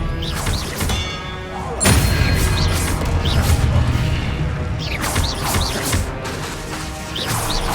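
The Expelliarmus disarming spell is cast in Hogwarts Legacy amid dense, continuous battle noise, with crashing impacts, whooshes and thumps piling up, and a heavy hit near the two-second mark.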